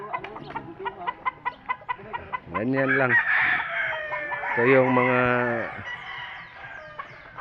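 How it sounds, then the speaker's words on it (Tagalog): Hens cluck in quick repeated notes, then a gamecock rooster crows twice loudly nearby, with someone talking briefly in Filipino over the birds. "yung mga manok natin dito"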